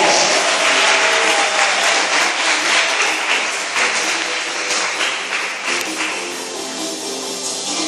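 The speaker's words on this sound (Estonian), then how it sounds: "Aplaus meistriklassi võitjatele." Audience at a 2012 Estonian cup competition awards ceremony applauds the master class winners, a dense, loud, steady ovation that fades slightly toward the end.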